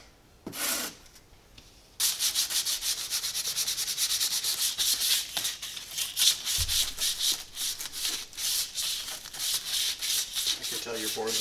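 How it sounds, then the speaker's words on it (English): Wood for a model rocket being sanded by hand, rapid rhythmic rubbing strokes close up after a brief pause, with people talking briefly over it. "I can tell you're bored with sanding."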